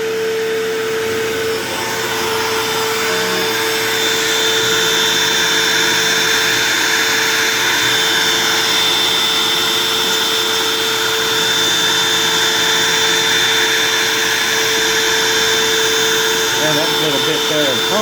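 CNC router cutting with a small bit while a dust collector runs, a loud steady roar and whine holding unbroken throughout, with a voice talking faintly under it near the end.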